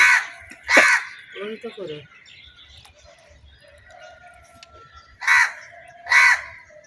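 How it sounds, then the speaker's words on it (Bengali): A crow perched on top of bamboo gives several loud, harsh caws, one early and two more near the end, with a person talking quietly in between and faint household sounds underneath. "কাক এই দেখেন পিছনে"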